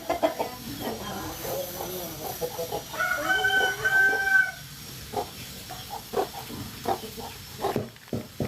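A rooster crows once at a distance on a home-based livestock farm, a drawn-out call of several seconds set among scattered clucks, rustling and faint background farmyard noise.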